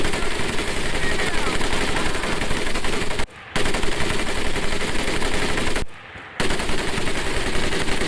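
Sustained machine gun fire from the 2004 video game Medal of Honor: Pacific Assault rattles loud and continuous, broken by two brief pauses between long bursts.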